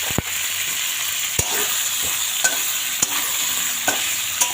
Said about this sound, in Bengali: সেই মটরশুঁটিটা এর মধ্যে দিয়ে দেব